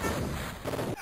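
Cannon fire in the Amiga strategy game North & South, a dense, rumbling burst of booming artillery that runs for about a second before cutting off sharply.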